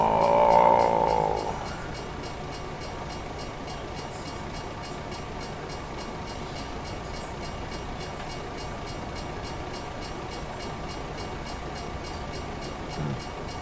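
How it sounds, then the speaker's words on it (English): A train rolls past in American Truck Simulator, a steady low rumbling roar of rail cars at moderate level, preceded by a brief tonal horn-like blast at the start. "if this train stops, I can't teleport around it either."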